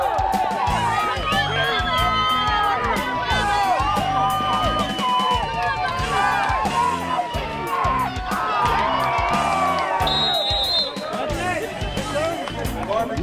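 A crowd cheers and shouts during an outdoor jousting contest, with loud, continuous whoops and excited voices near and far, plus an announcer talking over the noise.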